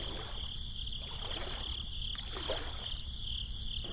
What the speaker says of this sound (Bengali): বিমল গুনগুন করে নৌকা চালাচ্ছে